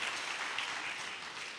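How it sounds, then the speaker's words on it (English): Applause from an audience at a community talk on ending gun violence: a short burst of dense, even clapping from a crowd, steady and moderately loud with no voices over it. "Give him a round of applause right there"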